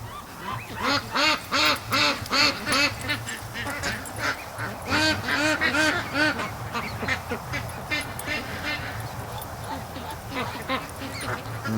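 Ducks quack loudly and repeatedly at a lake, a rapid rhythmic chorus of overlapping calls from a close flock, easing slightly later on.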